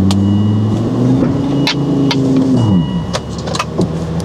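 An off-road car engine runs loud and close during a kinetic rope recovery, with a steady drone that rises in pitch, then drops and settles, while sharp knocks and clatter cut through.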